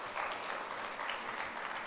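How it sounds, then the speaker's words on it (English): A brief patch of soft background applause for an honoree at a stage event, fairly faint and even, with no break in the clapping. "Let us have a background applause for C."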